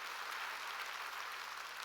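A church congregation applauds during a sermon, a steady wash of many hands clapping at an even level, distant and fairly faint, with a low hum underneath.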